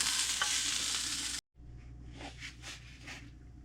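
Garlic and onion sizzle and get stirred in a pan for a Vietnamese meat pie filling, with a steady hiss that cuts out briefly and comes back softer with light scraping.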